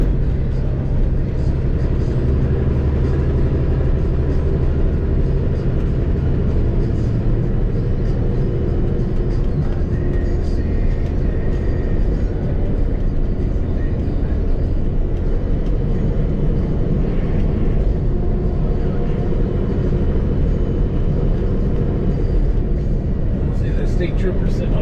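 A car drives along in gear with its engine running, a loud, steady low rumble and road drone throughout, with a voice talking over it at times.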